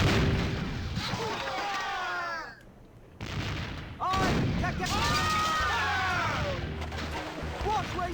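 Cannon fire in the video game The Curse of Monkey Island: booming shots burst out around one second and again near four seconds, mixed with sweeping, squawking game sounds and a brief quiet gap between.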